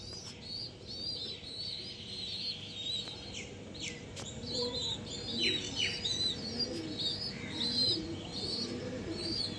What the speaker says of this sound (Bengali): খুব হাই কোয়ালিটির পায়রা